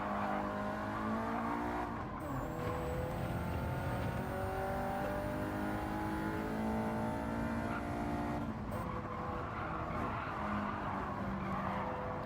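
Ford Cosworth race car engine in a racing video game, a sustained loud engine drone with shifting pitch and a tire-like squeal, heard alone without talk.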